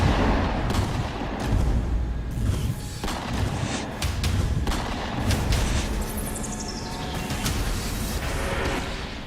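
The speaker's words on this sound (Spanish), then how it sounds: "Policías y delincuentes se enfrentaron a tiros tras una denuncia ciudadana." A police shootout with criminals in Tepic, Nayarit: a dense, continuous barrage of overlapping gunshots with sharp cracks, heavy and sustained throughout.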